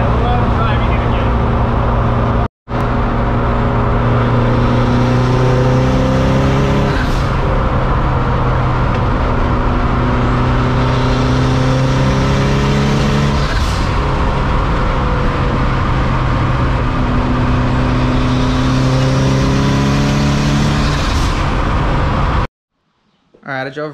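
A Mazda Miata wearing a swapped-on Ford body drives along, its engine a loud, steady drone from inside the car, with pitch climbing and dropping in stepped surges as it revs through the gears before cutting off abruptly.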